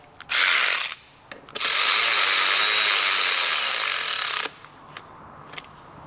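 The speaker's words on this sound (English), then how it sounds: "You need your 8mm socket. Go ahead and tighten that." Ratchet wrench with an 8mm socket tightening a small 6mm bracket bolt on a Piaggio BV400 scooter, giving two long, loud, steady bursts of rapid pawl clicking, each several seconds, with short quiet gaps and a few single clicks between.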